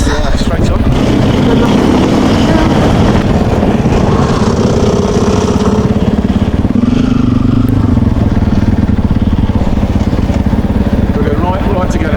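Motorcycle riding a muddy green lane in the White Peak, its engine chugging and revving steadily throughout with clattering over rough ground and voices talking over it.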